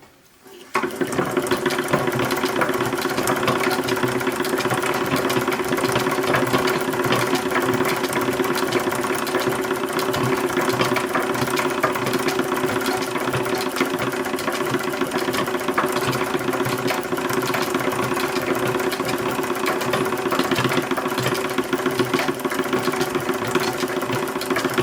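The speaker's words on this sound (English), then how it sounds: "So it's really sewing on the velvet and also the bias at the same time." An original 1876 sewing machine stitches velvet and bias binding together for a toddler's dress, running in a steady, fast mechanical chatter that holds close and unbroken for the whole stretch after a brief start.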